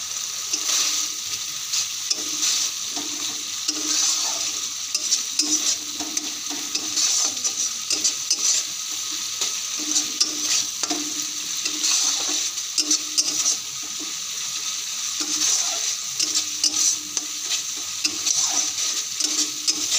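Spice paste for mustard hilsa is stirred and fried in a pan, a continuous sizzle broken by repeated scraping strokes, close and steady with no talking.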